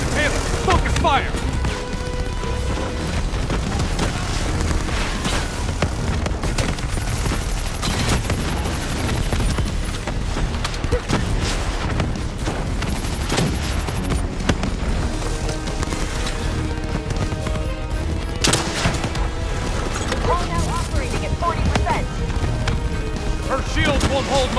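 Gunfire in Call of Duty Black Ops: continuous battle with bursts of rapid shots and crashes throughout, with in-game voices talking over it.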